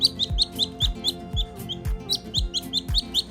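A tiny Mandarin duckling on a farm gives a rapid series of high, sharp peeps, about a dozen evenly spaced chirps, close and clear, with no talk over them.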